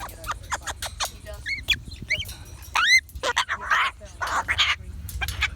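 A pet parrot at an outdoor picnic gives loud, repeated squawks and rising whistled calls close by, mixed with other bird squeaks and some human voices in the background.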